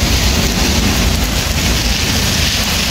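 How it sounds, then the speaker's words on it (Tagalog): Heavy typhoon rain from Typhoon Crising pours over Manila, a dense, loud, unbroken roar of water hitting surfaces, with no voices. "Grabing ulan na ito."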